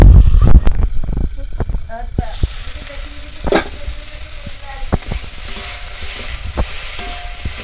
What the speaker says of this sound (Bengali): এবার ঢাকা দিয়ে সবজিটা ভাজবো।